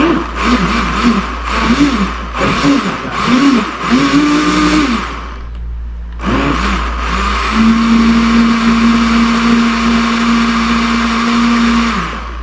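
A blender whirs loudly and steadily chopping hard carrots, its motor pulsing and shifting pitch, pausing briefly before running again into a high steady whine.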